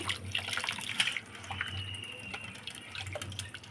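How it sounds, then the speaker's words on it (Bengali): Running tap water pours over freshly cut fish being washed by hand in a home kitchen, a steady splashing stream with small drips and clinks, fairly quiet and close, with no talk. "মাছগুলো কাটা হয়ে গেছে, এবার আমি ধুয়ে নিচ্ছি"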